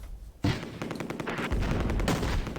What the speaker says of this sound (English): There was a pretty bad mortar hit there, it looked like.